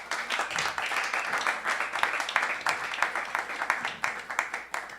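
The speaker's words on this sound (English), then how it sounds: "please warm applause from everybody" An audience at a school event applauds to welcome a speaker on stage: dense, steady clapping from many hands fills the room, rising and falling in waves, with no words spoken.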